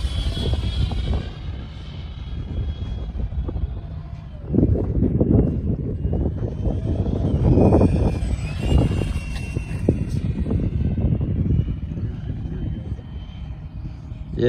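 A 4S-powered Freewing F9F Panther 64mm electric ducted fan model jet whines as it flies around, its pitch rising and falling as it passes, under a low rumble with people talking nearby.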